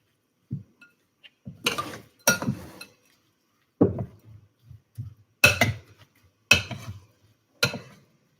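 A spoon clinks and scrapes against a bowl while quinoa, banana and cinnamon are stirred together, giving sparse, irregular taps and knocks with brief quiet gaps between strokes, close and fairly soft.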